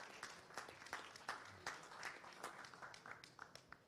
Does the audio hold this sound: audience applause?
yes